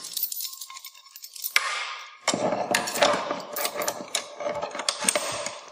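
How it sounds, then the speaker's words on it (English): Tools loosening two bolts on a track chain tensioner, with metallic clinks and clanks, a sharp knock, then a busy stretch of ratcheting and scraping metal, fairly close. "We're going to loosen the two bolts."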